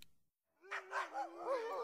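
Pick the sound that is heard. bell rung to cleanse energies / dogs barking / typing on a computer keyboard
dogs barking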